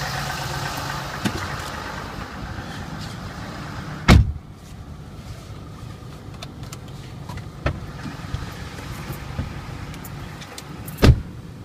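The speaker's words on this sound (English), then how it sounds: "Let's take you on a short test ride," A 2012 Dodge Ram 3500 crew cab 4x4 with a 6.7 engine drives on a chilly day, heard from inside as a steady low engine drone and road rumble with a couple of sharp thumps.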